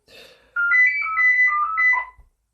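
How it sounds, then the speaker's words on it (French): Telephone ringing in a quick electronic warble that pulses several times in one short burst, clear and close after a brief faint sound. "C'est le téléphone."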